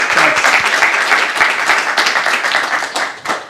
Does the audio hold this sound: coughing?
no